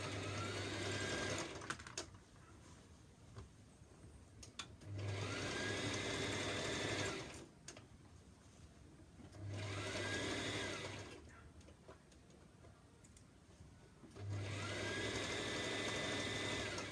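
A sewing machine hums through several stitching runs on a top, four separate bursts of a few seconds each with quiet gaps between them, fairly faint and steady.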